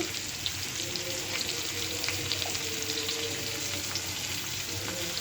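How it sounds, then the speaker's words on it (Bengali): Vegetables fry in a pan with salt, turmeric, chili and coriander powder, giving a steady, close, crackling sizzle with faint bubbling throughout. "হালকা সবজিটা কষিয়ে নেব"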